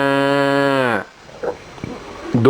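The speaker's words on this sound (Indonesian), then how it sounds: "Suara domba. Ba." A sheep gives a single strong, close bleat lasting about a second, followed by faint scattered noises.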